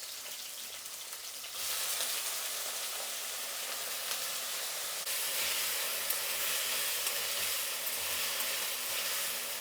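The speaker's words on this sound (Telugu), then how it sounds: "అలాగే ఈ వంకాయలు కూడా 2 ఒకేసారి ఫ్రై చేసి వేసేస్తున్నాము" Brinjal and onions sizzle in hot oil, a steady broadband frying hiss that jumps louder around two seconds and again near five as more pieces go in, continuous and close with no talking.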